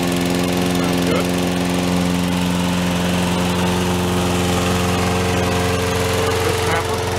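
A Snapper P216012 walk-behind lawn mower engine runs steadily and loudly up close, a continuous droning hum with little variation from start to finish.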